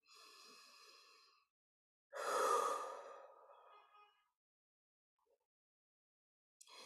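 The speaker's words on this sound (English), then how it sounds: "so everyone just take a couple of nice deep breaths and we'll begin." Two slow, deep breaths are heard up close during a guided healing session, the second a long, loud exhale like a sigh, followed by near silence and a faint breath at the end.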